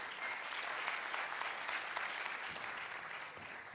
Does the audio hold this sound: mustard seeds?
no